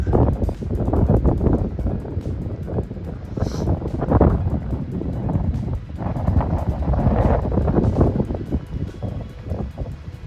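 Wind on the Appalachian Trail gusts and buffets the microphone in uneven rushing bursts, loud and close throughout.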